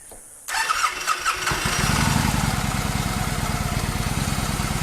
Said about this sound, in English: This will be a cold start on a 2014 Victory Hammer.